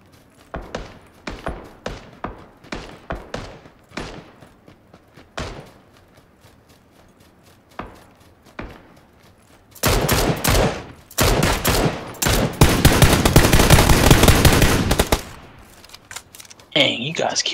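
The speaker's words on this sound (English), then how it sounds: "Just shooting at each other." Gunfire in a shooter video game: a run of sharp single shots early on, then dense, loud bursts of rapid fire near the middle and end, with players talking over parts of it.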